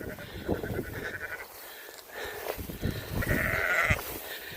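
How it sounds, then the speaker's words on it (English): A flock of over 100 sheep on grass pasture bleats repeatedly, overlapping calls near and far, with lambs among them. "there's over 100 sheep in here"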